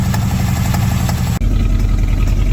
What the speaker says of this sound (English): Popping. I thought that was exhaust, but it's coming out the carburetor.